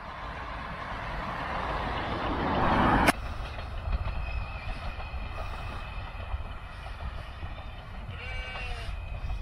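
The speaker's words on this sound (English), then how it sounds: "So that's an old steam locomotive, and this is known as the Welsh Mountain Railway." A steam locomotive on the Welsh Highland mountain railway in Snowdonia gives a rumbling steady train noise with a sharp clank around three seconds, then continuing low mechanical rumble and faint squeals; a bleat-like tone briefly near the end.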